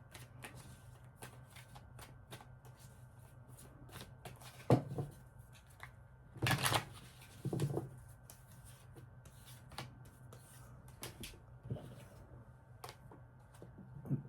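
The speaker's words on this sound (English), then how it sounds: "I'm shuffling the cards here a few times for you." Tarot cards being shuffled by hand, soft rapid riffling and tapping in scattered bursts, close and quiet with no talking.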